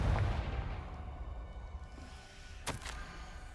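A fire-blast spell goes off in a wizard video game, a heavy booming impact at the start fading into a rumbling tail, then a sharper crack near the end.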